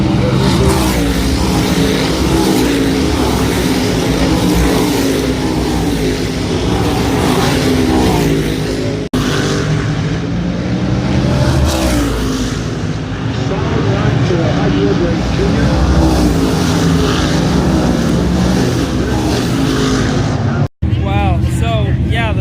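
Race cars roar around the track in a 2019 World Series of Racing event, a loud continuous engine drone with rising and falling passes close by, under excited commentary throughout.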